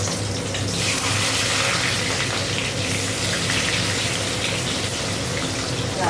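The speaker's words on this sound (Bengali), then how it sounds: "ঢেঁড়সটা করবো, পেঁয়াজটা দিয়ে দিচ্ছি।" Onions dropped into hot oil for an okra curry burst into a loud, dense, steady sizzle that holds close and constant from start to finish.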